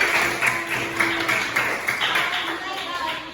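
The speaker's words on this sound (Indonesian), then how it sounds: "Tepuk tangan dulu buat kelas 5 Abu" A class of fifth-grade primary school pupils claps together in rhythmic bursts, with voices chattering over the claps in the classroom.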